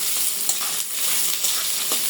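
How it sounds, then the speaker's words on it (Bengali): About a cup of onions fries in hot oil in a wok, giving a dense, continuous sizzle with faint stirring bumps, close and alone. "লাল লাল করে ভেজে নেবো"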